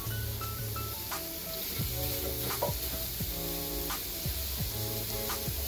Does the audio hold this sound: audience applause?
no